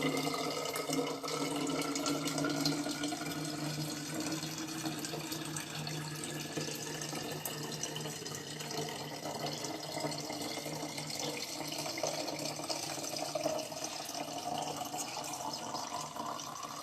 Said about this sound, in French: on va bien sûr transvaser directement dans la bouteille, dans l'évier